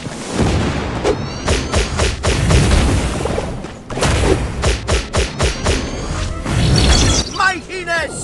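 Banana bombs explode in a LEGO Nexo Knights cartoon, with a loud run of booming blasts, thuds and shattering debris, one burst after another, while voices are heard among the explosions.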